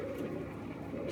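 Pigeons coo softly in the background, a low, continuous murmur at moderate distance with no talk over it.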